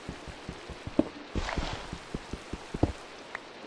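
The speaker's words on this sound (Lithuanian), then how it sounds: "Lietus pradėjo lyti." Rain falls in the Minecraft video game, a steady soft patter with regular low taps like footsteps running through it and a brief louder splashy burst partway through.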